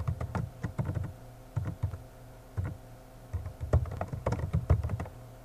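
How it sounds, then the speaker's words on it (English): Fingers tap out a name on a computer keyboard in short, uneven bursts of close, crisp key clicks with brief pauses between, over a faint steady hum. "Type in the name of your mod."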